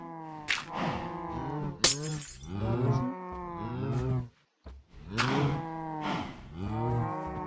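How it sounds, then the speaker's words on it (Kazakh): Cows in the Minecraft video game moo repeatedly, several loud drawn-out calls following one another, with a brief crack-like hit near the start and a short gap before the last moos. "мынан бәрі мөңіреп жатыр"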